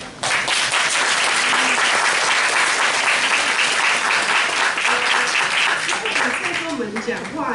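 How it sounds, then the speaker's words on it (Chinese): Warm audience applause welcoming a speaker to a literary festival talk, full steady clapping from a crowd that begins abruptly and carries on evenly, with some voices audible beneath it toward the close. "我们现在先以热烈的掌声来欢迎我"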